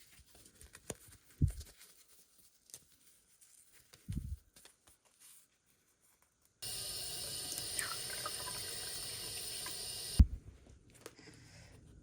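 Tap water runs steadily for about three and a half seconds onto a machine-stitched card holder to dissolve its stabilizer, preceded and followed by soft handling thumps in an otherwise quiet room.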